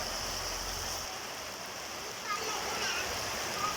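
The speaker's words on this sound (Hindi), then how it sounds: "और बारिश आज बहुत ज़ोर से लग रही है।" Heavy rain falling outside, a dense steady hiss heard from indoors with faint kitchen sounds in the background.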